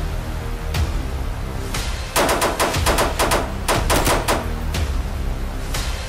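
Gunfire in the Roblox game Streetz War: single shots, then quick bursts of rapid automatic fire, loud and repeated, over a continuous background din.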